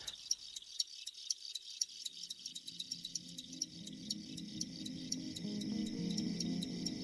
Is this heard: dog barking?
no